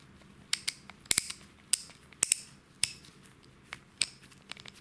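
Ratchet of an aluminium King Dick tool being turned by hand, giving a series of sharp, close metallic clicks at irregular intervals, fairly quiet with no talk.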